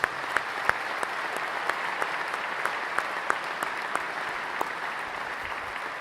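Steady applause from a sizable gala audience, continuous clapping at an even level throughout, slightly distant, with no speech.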